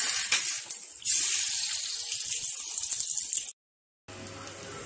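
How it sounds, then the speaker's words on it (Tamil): Rice rotti cooks in sesame oil on a hot pan, a soft bright sizzle that jumps louder after a second, then a brief silence before a quieter hiss resumes. "நல்ல நல்லெண்ணெய் விட்டுக்கிறோம்"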